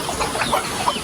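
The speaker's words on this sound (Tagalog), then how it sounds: "Nakakatuwa po ang mga manok pagka kumakain, oh." Chickens at a fishpond farm cluck softly in short, scattered calls while feeding, close by and without talk.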